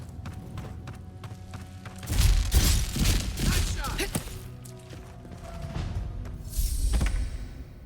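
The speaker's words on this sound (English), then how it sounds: "I was shooting. I was shooting stuff." Gunfire and impact thuds from the fantasy video game Avowed, a cluster of loud bursts and crashes midway through with another burst near the end, over steady game background sound with some speech.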